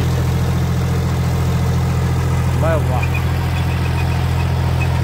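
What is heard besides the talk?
John Deere tractor engine running with rotavator in low gear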